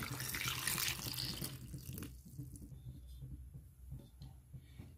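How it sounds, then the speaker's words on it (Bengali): Water poured into a bowl holding three potatoes and eggplants, a loud rushing splash for about two seconds that then stops, leaving faint dripping and quiet handling sounds. "এর মধ্যে এবার জল দিয়ে দেবো।"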